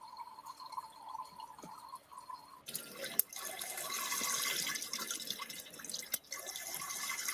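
After an electrical discharge, water pours out and sputters: a quiet dripping at first, then a sharp crack gives way to a broader, louder gushing splash with irregular spits and bursts.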